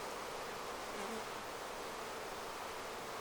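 Honey bees buzzing over a hive frame, a dense steady hum of many insects that holds at an even level throughout, close and continuous with no voices.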